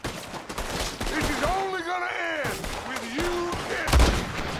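Several loud gunshots crack out in Red Dead Redemption 2, including a sniper rifle, spread across a few seconds over tonal game music and effects.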